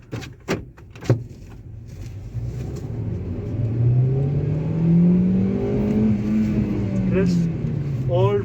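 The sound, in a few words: Hyundai Grand i10 Asta 2015 engine accelerating toward 7000 RPM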